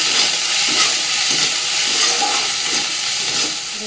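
Spices sizzle in hot mustard oil in a wok: bay leaf, dried red chillies, whole cumin, ginger paste, salt and turmeric. The hiss is loud, dense and continuous, with faint stirring scrapes and no voices.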